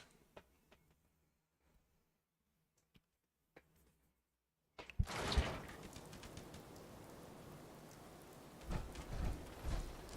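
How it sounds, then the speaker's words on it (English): A severe thunderstorm with rain: a quiet stretch with a few faint ticks, then a sudden heavy burst of rain and thunder that keeps rumbling and hissing to the end. "We are having severe thunderstorms, so bear with me."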